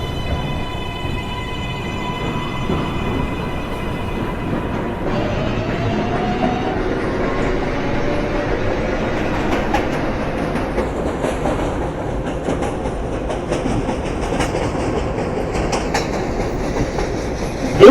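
A New York IRT 7 local subway train rolls along with a continuous rumble and rhythmic clickety-clack from the wheels. Faint squeals and tones rise over the steady running noise, and no one speaks.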